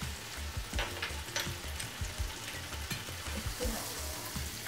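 Finely chopped green chilli crackles and sizzles in melted butter with garlic, a close, steady frying hiss with scattered light pops and occasional stirring taps.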